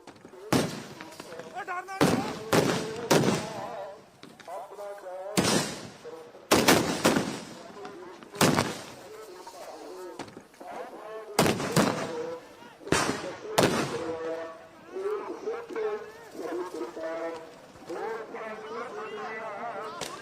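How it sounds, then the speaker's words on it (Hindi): Police firing tear gas shells at protesting farmers at the Shambhu border, a series of sharp loud bangs and cracks, some in quick clusters, amid shouting crowd noise and voices. "पुलिस ने किसानों पर आंसू गैस के गोले छोड़े हैं।"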